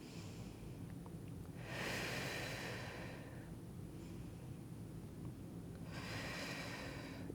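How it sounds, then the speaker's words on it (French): Slow, deep breaths drawn during a stretching and mobility session: two long, soft airy inhale-exhale cycles, close but quiet, with no talking. "Encore 2 grandes respirations."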